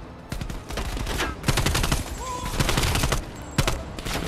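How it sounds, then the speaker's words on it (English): Rapid bursts of AK rifle fire in the Black Ops Cold War video game, loud and close in several fast volleys, with a voice briefly underneath. "Let's pull out this AK."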